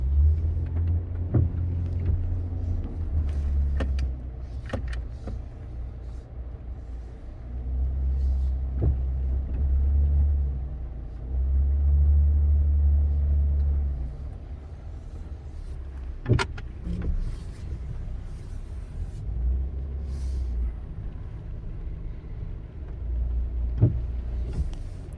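A vehicle switched back to two-wheel drive rolls along a greasy, muddy back road and turns around, its low engine rumble rising and falling steadily with a few faint knocks and clunks, no talking.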